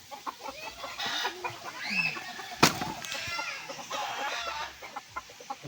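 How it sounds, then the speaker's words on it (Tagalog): Several chickens cluck and chatter on a riverbank, close by, with one sharp louder squawk amid soft outdoor background noise. "Ang daming manok dito."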